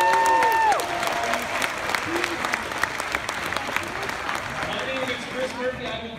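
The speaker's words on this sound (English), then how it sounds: "Let's give everybody a big round of applause." A large audience at the MathCON Chicago Finals 2017 at the University of Illinois claps together in a steady, full round of applause, with some scattered voices over it.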